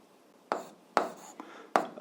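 Writing physics problem data on a board: three crisp, fairly loud strokes land at roughly even intervals, with a fainter scrape between them. No voices are heard.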